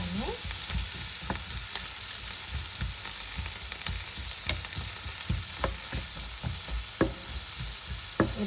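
Chicken frying in a pan with a continuous hiss and a regular series of stirring scrapes and clinks, close and fairly even in loudness.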